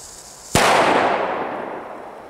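A Jorge JC05 firecracker goes off in a single sharp, loud bang a moment into the clip, followed by a long fading rumble and hiss as the blast echoes away outdoors.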